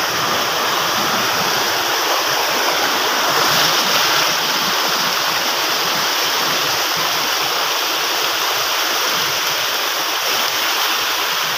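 Water rushes over a dam in the Konkan region, a loud, steady roar of falling and flowing water that holds at one level the whole way through with no talk.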